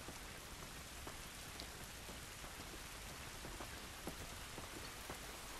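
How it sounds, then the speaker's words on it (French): Steady rain pours down in a dense, even hiss, with scattered louder drops pattering on a surface throughout, in the video game The Last of Us Remastered. "Cette pluie ne va pas nous aider."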